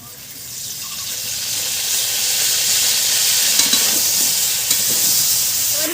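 Bay leaf frying in hot oil for a fish curry with piring greens, a steady close crackling sizzle with light stirring that swells slightly and holds throughout, with no voices.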